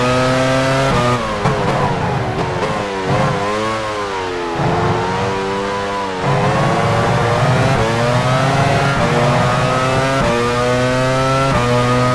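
Alessandro Zanardi's Formula 1 car drives into the pits at Magny-Cours in the F1 Challenge 99/02 racing game. A loud, close engine drone dips and rises in pitch as the car slows, then holds a steady buzzing tone.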